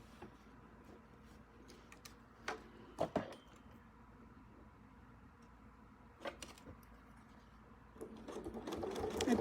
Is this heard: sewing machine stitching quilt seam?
yes